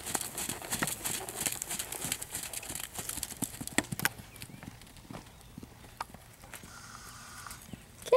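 Pony hooves cantering outdoors on a course, rhythmic clip-clop beats close by with rustling and soft breathing, gradually easing toward the end.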